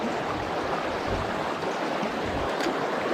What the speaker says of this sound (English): The water is rushing through here today.